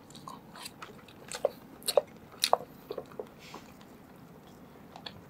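Takoyaki being eaten at close range in a late-night ASMR session at a mall food spot, with a few soft crunchy bites and wet chewing sounds spaced over a quiet, low background hiss.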